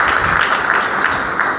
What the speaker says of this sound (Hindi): और ये पहले तालियां बजाएं